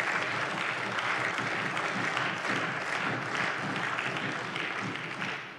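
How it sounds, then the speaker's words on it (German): Members of a state parliament applaud during a budget debate. The clapping is continuous and fairly distant, holding steady throughout before easing slightly at the end. "Applaus"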